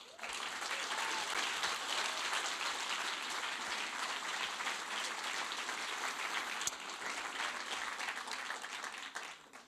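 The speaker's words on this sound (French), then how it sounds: "Pas mal, vos applaudissements." A large audience at the Cannes Film Festival 2021 claps continuously, a dense, even wash of applause from a crowd heard at a slight distance.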